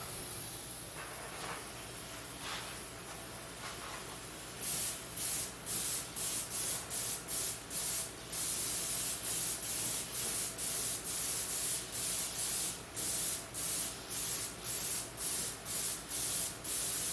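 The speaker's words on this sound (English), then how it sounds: "Protection for these wheels will be IGL Eclipse sprayed out of a gravity gun." IGL Eclipse protective coating sprayed from a gravity-feed spray gun onto car wheels during a 1937 Hudson Terraplane restoration: a steady hiss gives way to a long run of rhythmic, evenly spaced spray bursts, close and alone.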